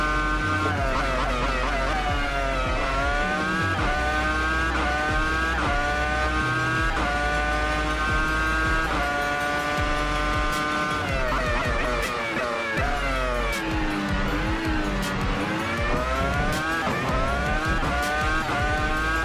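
A Williams FW26 Formula 1 car in a racing video game at the Canadian GP, its engine screaming and climbing through the gears while the traction control stutters and chatters rapidly. Loud and continuous throughout, with no voices.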